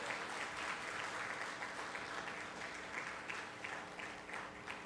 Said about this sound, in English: Let's give a big round of applause again to our dear President.